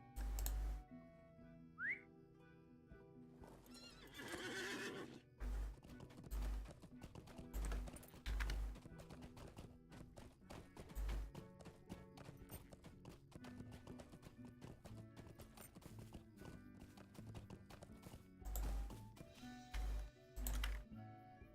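Summoned horse mount in a Lord of the Rings video game, a whistle call followed by a run of clip-clopping hoofbeats that come in uneven bursts across the scene with game sounds around them.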